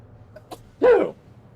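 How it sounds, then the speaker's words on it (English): A single sharp sneeze bursts out close and loud against a quiet background, with a brief faint breath or sound just before it. "Sorry, had to sneeze."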